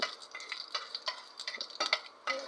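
Moong dal being stirred and fried in a pan: quick scraping strokes of a spoon against the pan in an uneven rhythm over a faint sizzle, close and fairly quiet.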